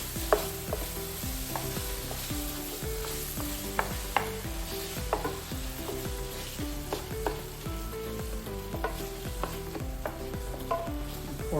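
Mushrooms and onions for a green bean casserole being stirred in a pan after a little liquid is added, repeated scraping strokes of a spoon against the pan in a steady rhythm over a soft sizzle.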